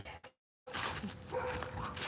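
A dog barks and whimpers nearby in short, scattered sounds after a brief silence, with background noise continuing throughout.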